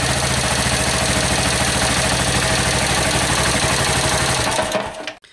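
Close, steady idle of a Suzuki TU 250 X single-cylinder motorcycle engine, an even rapid chugging pulse that runs smoothly and then cuts off abruptly near the end.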